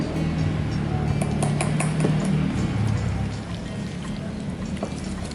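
A spoon scrapes and clinks inside a bowl while baba ganoush is mixed with tahini, giving close, continuous stirring with scattered light taps against the sides.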